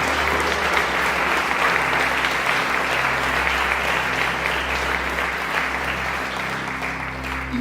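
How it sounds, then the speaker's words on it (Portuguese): A church congregation applauds steadily and loudly throughout, a dense continuous wash of clapping from a large crowd with no pauses. "Pode aplaudir o Senhor Jesus."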